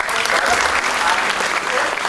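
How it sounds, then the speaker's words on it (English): An audience at an IT seminar applauds for Gaurav, loud close clapping that runs steadily for the whole moment. "A round of applause for"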